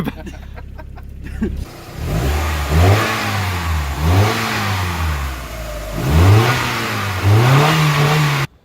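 A car engine revs hard in repeated bursts, bouncing off the rev limiter each time, loud and close, after a brief quieter idle, in a workshop.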